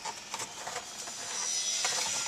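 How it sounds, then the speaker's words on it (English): Honda Odyssey CD changer grinding: a faint, thin mechanical whirring and scraping buzz with small rhythmic pulses, steady and close for a couple of seconds. "you can still have here the CD changer grinding away"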